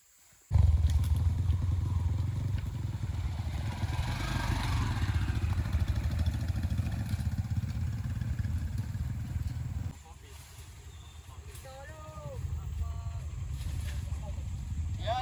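Off-road trail motorcycles rumble steadily up close on a mountain track in East Kalimantan, a constant engine drone that drops back briefly before rising again, with people talking over it.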